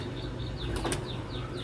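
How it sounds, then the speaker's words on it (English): Wings flap softly and rhythmically as birds fly past at a distance, faint against a quiet outdoor background, with no speech. "Birds are coming, birds are going, returning back"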